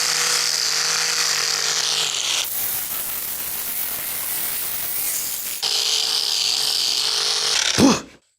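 A handheld power sander grinds across rough painted wood, a steady buzzing whir that shifts to a harsher scraping tone midway, then returns before cutting off, close and loud.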